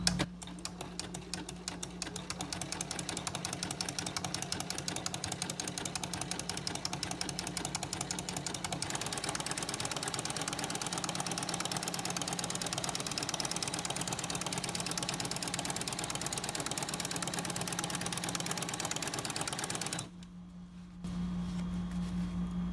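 A domestic sewing machine fitted with a flower presser foot stitches in a fast, steady mechanical rattle at close range, running continuously for about twenty seconds before a brief pause and restart.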